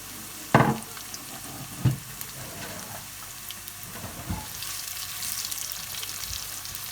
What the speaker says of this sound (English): So the onion and the garlic can saute at the same time.